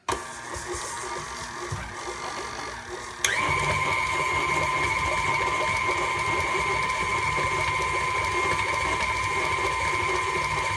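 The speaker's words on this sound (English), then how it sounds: "We'll get this process started. Lock the mixer." Stand mixer beating pumpkin cake batter with dark brown sugar, a loud steady motor whine starting abruptly a few seconds in and running on evenly, after quieter kitchen handling noise.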